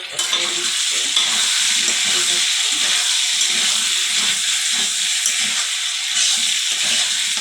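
Papaya and egg curry is stirred and sautéed in a pan, a loud, steady frying hiss under rhythmic scraping strokes of a spatula, with no one speaking.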